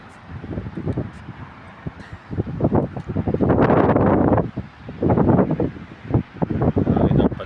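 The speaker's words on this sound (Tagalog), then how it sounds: "Mahangin ng paligid sa karagatan, tahimik." Gusty wind sweeps across open sea at night during high tide, roaring in broad surges that rise and fall against the microphone, with a brief voice heard faintly early on.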